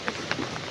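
Steady broadband hiss of heavy rain pouring down, dense and continuous with a few sharper patters, fairly loud and close, no voices.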